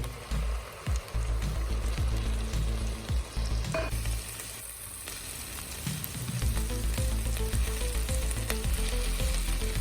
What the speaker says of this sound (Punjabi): ਜਦੋਂ ਟਮਾਟਰ ਭੁੱਜ ਜਾਵੇ